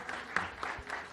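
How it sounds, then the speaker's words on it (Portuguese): Applause filling a hearing room, a steady wash of many hands clapping at moderate distance without a break. "Aplausos aqui na sala"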